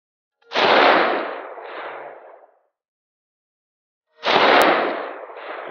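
Two loud gunshots at an outdoor shooting range, fired several seconds apart, each a sharp close-range bang followed by a rolling echo that fades out, with silence between them.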